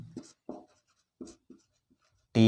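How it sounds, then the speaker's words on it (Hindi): Pen strokes scratch across paper while writing out a geometry construction, several short bursts of scribbling separated by brief pauses, close and clear, before a voice begins at the end. "तो कंस्ट्रक्शन में ये सारी बातें लिख देते हैं"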